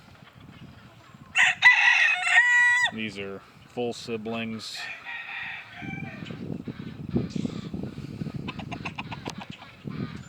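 Chickens in breeding pens, including a double-barred cuckoo rooster, crow loudly and cluck nearby, the crows stacking in bursts before clucking and rustling take over, while someone talks in between.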